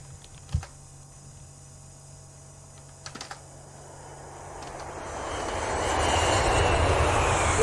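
A propeller airplane engine drones in a video game, swelling from a faint hum to a loud sustained roar, with a few keyboard clicks early on.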